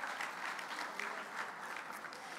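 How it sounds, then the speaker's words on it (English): Sustained applause rises from the audience after an anniversary lecture on AI and universities, a continuous dense clapping throughout with slight swells, some murmuring beneath it. "Please give him another round of applause."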